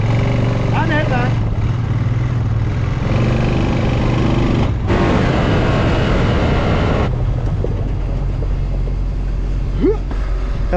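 International 1066 tractor engine working under load, a loud, deep, continuous diesel roar with wind buffeting, a few brief breaks and shifts in tone, with a voice over it at times.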